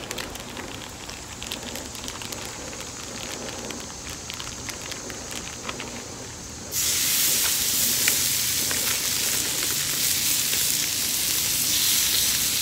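A ribeye steak is laid on a hot pan and bursts into a loud, dense sizzle that jumps up suddenly and holds steady, after a quieter stretch of softer frying crackle.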